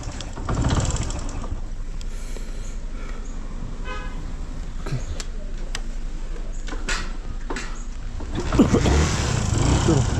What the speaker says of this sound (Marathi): चला इंजिन गरम व्हायला टाइम लागते,